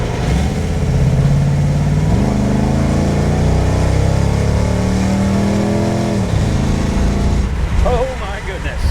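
Vortec-powered 1951 Ford pulling hard from a stop sign, the engine roaring loud and close as revs climb, drop with a shift, then climb again before easing off, with someone talking briefly near the end.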